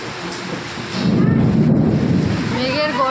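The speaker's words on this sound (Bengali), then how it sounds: "মেঘের গর্জন শুনতেই পাচ্ছ তোমরা" Deep thunder rumbles during rainfall at a home, swelling into a loud, sustained low roll after the first second over a steady hiss of rain.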